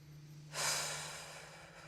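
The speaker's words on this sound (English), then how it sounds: "Really feel that breath on that pelvic floor." One deep breath drawn in during a guided grounding exercise, a single close, airy inhale that swells and then fades over about a second.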